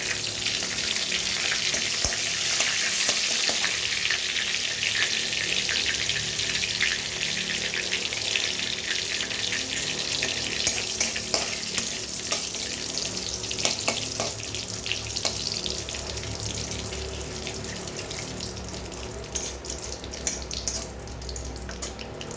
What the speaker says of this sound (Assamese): এতিয়া সেই তেলতে মই ইয়াত কেইটামান জিৰা ফোৰণ দিলোঁ আৰু তেজপাত দিলোঁ, শুকান জলকীয়া এটা দিলোঁ।